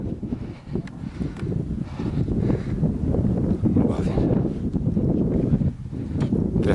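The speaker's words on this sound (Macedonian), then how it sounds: "силен ветер дува, и северен студен." A strong, cold north wind sweeps across a mountain ridge in Macedonia, buffeting the microphone with a loud, continuous low roar and brief rustles.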